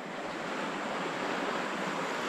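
A river flows through a tropical forest, its water rushing in a steady, dense wash that stays close and unbroken from start to finish with no voices.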